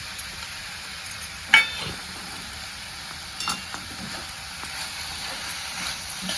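Bitter gourd dry curry being stirred in a pan with fresh coriander, soft scraping and quiet sizzle with a few sharper clicks of the spoon, fairly faint and without speech.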